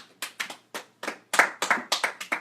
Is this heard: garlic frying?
no